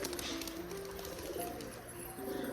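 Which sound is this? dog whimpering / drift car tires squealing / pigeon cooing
pigeon cooing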